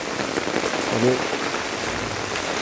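Heavy rain pouring on a village street in Kadapa, a steady dense hiss of drops hitting surfaces throughout, with a brief voice speaking over it near the middle.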